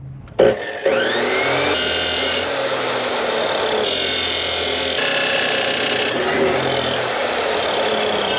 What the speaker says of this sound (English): you're not supposed to cut stainless with that style of blade